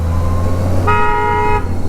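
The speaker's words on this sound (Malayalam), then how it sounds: "ഞാനിപ്പോൾ ഇവിടെ വന്നിട്ട് ഇവിടുത്തെ ആൾക്കാരെ പോലെ ഹോൺ അടിക്കണം കേട്ടോ." A motorbike horn gives one loud, steady honk lasting under a second over the low rumble of an engine and road traffic, close by, with no talking.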